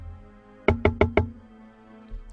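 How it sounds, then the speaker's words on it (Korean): Four quick, evenly spaced knocks on the driver-side window of a compact car, close and sharp with a hollow glassy ring, followed by a faint thump and low background hum. "이런저런 생각을 하며 경차의 운전석 창문에 노크를 했다."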